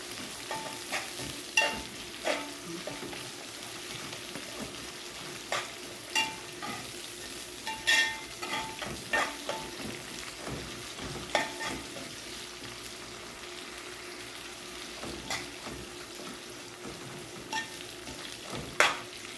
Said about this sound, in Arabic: كده حبايب الرز اتغلف كله بالسمنه والزبده والزيت.